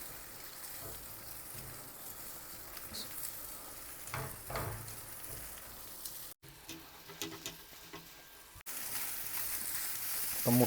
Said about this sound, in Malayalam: ഫ്ലെയിം ഒരു മീഡിയം ടു ലോ ഫ്ലെയിമിൽ വെച്ച് ഈ ഉള്ളിയും തക്കാളിയൊക്കെ ആയിട്ട് നന്നായിട്ടൊന്ന് മിക്സ് ചെയ്തെടുക്കാം